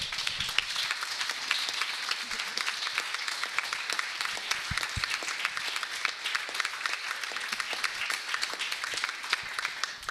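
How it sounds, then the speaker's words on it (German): Steady applause from a conference audience at the closing panel discussion of BuchCamp 2011, a dense, even patter of clapping that lasts throughout, with no talk over it. "Das finde ich jetzt auch mal einen kleinen Applaus schon mal wert."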